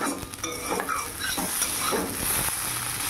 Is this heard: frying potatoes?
yes